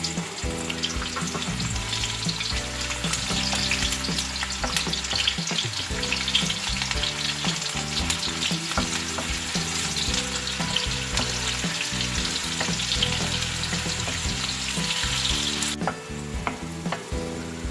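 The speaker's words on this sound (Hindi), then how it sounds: "1 कप कढ़ाई में ऑयल डाला है। इसमें प्याज ब्राउन करनी है।" Onions fry in a cup of oil in a kadai, browning with a loud, steady sizzle that runs unbroken and close up, with no voices over it.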